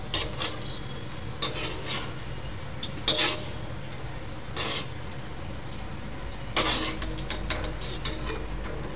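A besan (chickpea flour) mixture roasted in a pan over a low flame, a soft continuous sizzle broken by several scraping stirs of a spatula against the pan, close and without talking.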